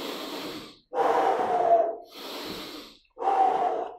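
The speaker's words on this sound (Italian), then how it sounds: "Respirazione." Heavy breathing during recovery in a squat-based HIIT workout: four long, loud breaths alternating in and out with brief pauses between them, close to the mic and with no speech.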